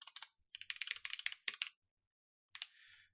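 Bursts of rapid keystrokes on a computer keyboard while code is typed for a SystemVerilog module, with short pauses between runs of clicks, close and fairly soft, no talking.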